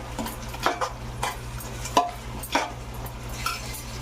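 Sautéing tomato bath masala with a teaspoon of turmeric in a pan, a spoon stirring with irregular scraping strokes over a faint background sizzle, close and moderately quiet.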